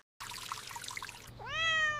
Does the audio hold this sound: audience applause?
no